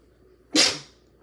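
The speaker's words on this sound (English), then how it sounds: "I just sneezed." A single sharp sneeze, close and loud, bursting out after near silence and trailing off within half a second.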